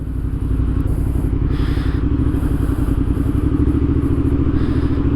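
A motorcycle engine runs loud and close with a steady, throbbing low rumble as the clutch is eased out slowly. There are faint clattery rattles on top, and no talking.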